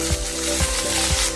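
Onion and tomato frying in a pan for mutton kosha, a steady close sizzle with three soft rhythmic stirring scrapes spaced evenly through it.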